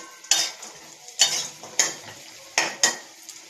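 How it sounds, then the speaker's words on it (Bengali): Lentil boris frying in hot oil, with bright sizzling bursts that flare up about every second as the pieces are turned with a spatula, scraping against the pan between them. "এবার বড়িগুলোকে বেশ সুন্দর করে লাল করে ভেজে নেব।"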